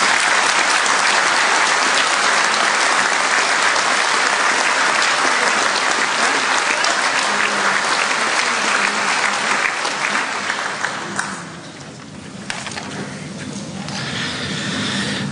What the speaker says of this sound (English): it's high time you gave yourselves a round of applause